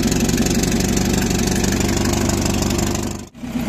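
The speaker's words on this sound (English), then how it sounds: "And the engine is running as we speak right now." A Mercedes-Benz W123 with a carburettor-to-EFI conversion idles steadily up close, a continuous even engine drone that briefly dips and stutters near the end before recovering.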